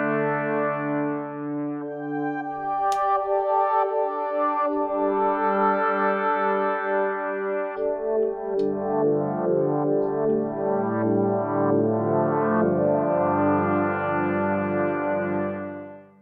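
An FM synthesizer patch on a Liven XFM, shaped with filter LFO, longer release and light reverb, plays sustained layered chords and melodic notes with a bright, buzzy tone, steady and loud throughout with no talking.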